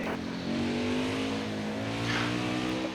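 A NASCAR Cup car in the NASCAR Heat 5 racing game drones loud and steady at WWT Raceway, its engine pitch climbing smoothly through a sustained rev with no talking over it.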